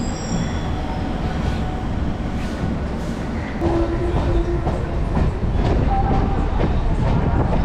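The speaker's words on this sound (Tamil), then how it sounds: "ட்ரெயின் இப்போது 9:50க்கு இங்கே ஸ்டேஷன்லேருந்து ஸ்டார்ட் ஆகிடுச்சிங்க." MEMU local train from Chennai Central toward Tiruttani pulling out of a station, a steady loud rumble of wheels and carriages with rhythmic clatter and a brief tonal squeal or hum partway through.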